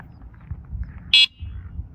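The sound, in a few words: horn of a 1500W fat tire electric dirt bike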